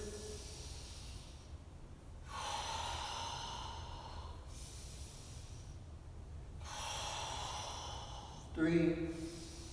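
Slow, deliberate breaths during a mobility exercise: long airy exhales and inhales alternate in a steady rhythm close to the mic, ending with a short sharper breath.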